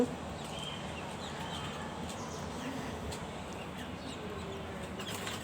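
Chickens cluck softly at a distance over a steady outdoor background, scattered calls with no one speaking.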